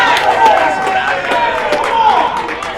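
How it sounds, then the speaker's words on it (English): A wiffleball championship crowd roars after a home run. Loud, sustained cheering and clapping fill the air while an announcer talks over it. "The crowd erupts, and it's 1-0 Mojo."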